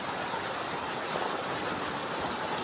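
Steady, even rain falling continuously during a thunderstorm, a broad hissing wash with no pauses and no voices.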